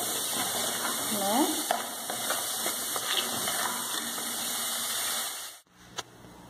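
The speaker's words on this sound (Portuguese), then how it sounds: "Agora eu vou dar uma douradinha em todo esse tempero" Seasoning fries in a pan for beet rice, a steady close sizzle with scraping stirs and a brief squeak, cutting off abruptly near the end before a short clatter.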